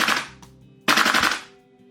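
Two loud, close bursts of rapid fire from an M4 MWS HPA airsoft gas blowback rifle on full auto, shot without a magazine, with a short pause between the rattling strings.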